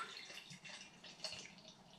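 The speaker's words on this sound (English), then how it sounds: "Give this a nice pour." Flying Dog Kujo beer, a very dark brew, pours into a glass with a faint, soft splashing and fizzing that runs steadily for a couple of seconds, quiet and close with no talking.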